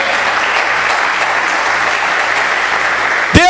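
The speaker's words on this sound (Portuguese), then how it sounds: "As palmas para o Senhor nesta manhã." Church congregation clapping for God during a Portuguese-language worship service, a steady dense wash of applause filling the whole stretch before a brief sharp sound cuts in at the very end.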